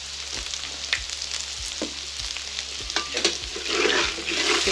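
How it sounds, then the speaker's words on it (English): Breakfast burrito filling with garlic and pepper sizzles steadily in butter in a pan while being stirred, with soft scraping and clicking of the utensil against the pan close by. "Give that a quick stir."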